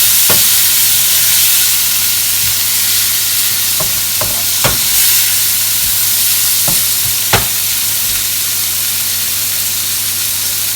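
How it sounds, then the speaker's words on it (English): Pork chop and other food frying in a pan, a steady broad sizzle with a low hum underneath, broken by a handful of sharp clicks from a utensil stirring and scraping the pan, no voices. "you have to make sure you're constantly stirring it"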